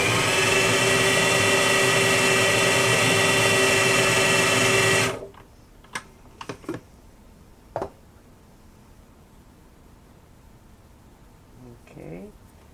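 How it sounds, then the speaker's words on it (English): An electric hand mixer whirs loudly while blending classic Crisco pie crust dough, running steadily for about five seconds and then cutting off, followed by a few light clicks and soft handling noises. "Let's mix that up a little bit more."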